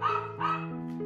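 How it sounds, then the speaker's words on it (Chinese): A dog gives two short, close barks, then a softer whine at the end. "那进来这谁家狗狗？"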